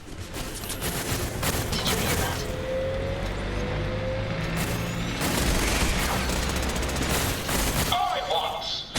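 A turret in the video game Fallout 4 fires dense, rapid bursts of gunfire over a noisy battle backdrop, with a voice talking over parts of it.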